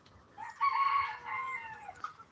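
Tulip, a breeding rooster on a small farm, lets out a single clear crow of about a second and a half, moderately loud and close, over a faint background with no talk.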